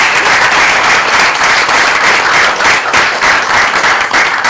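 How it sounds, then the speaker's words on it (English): Sustained audience applause at a talk honoring several captains, dense steady clapping from a large room filling the whole stretch without a break. "Let's give a big round of applause."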